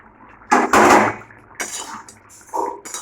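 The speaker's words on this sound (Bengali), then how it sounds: "ঢাকাটা খুলে নেব।" A lid comes off a cooking pot of simmering curry with potatoes, making a few loud, close metallic clatters and scrapes separated by short pauses. The final scrape is softer.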